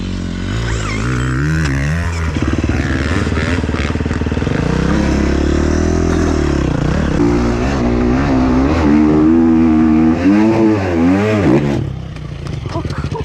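A KTM motorcycle engine revs up and down loudly nearby, pitch rising and falling repeatedly, with voices talking over it.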